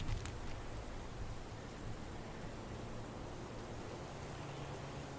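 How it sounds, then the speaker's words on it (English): Steady pouring rain in the video game Heavy Rain, a constant broadband hiss with a faint low hum beneath, even and unbroken throughout. "It's pouring rain."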